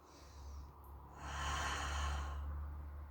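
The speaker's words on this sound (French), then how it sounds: "Et là, je peux respirer tranquillement." Slow, quiet breathing from a person holding a banana-shaped plank core exercise: a soft airy inhale, then a longer, fuller breath in the middle, faint and close.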